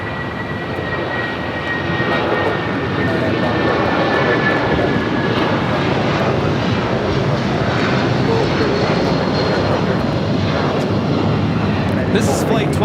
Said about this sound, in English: United 757-300 rolling down the 25 right.